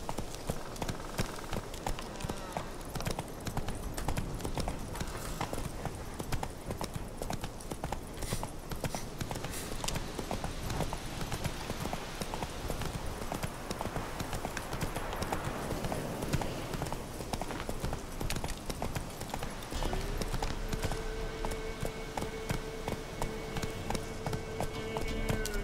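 In The Witcher 3 video game, a horse gallops with rapid, steady clip-clopping hooves, moderately close, and the rhythm continues throughout with no voices.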